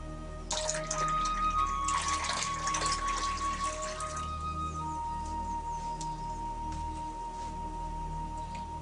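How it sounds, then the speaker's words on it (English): Dye mixture pours into a bowl of cold water with a bright splashing trickle for about four seconds, then fades to a quieter steady running-water hiss, close and alone without speech. "We're then going to add this to the cold water."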